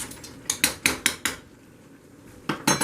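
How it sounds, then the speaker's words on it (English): Cooked potatoes mashed in a pot, a series of rhythmic metallic knocks and scrapes, a pause, then a few more close, clattering strokes. "Alright, time to mash the potatoes."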